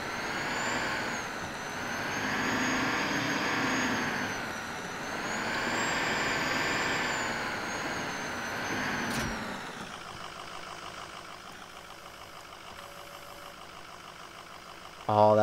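Truck engine in Farming Simulator 2019, a droning motor that swells and fades in cycles, then settles to a lower idle, with a sharp burst at the end like an air brake.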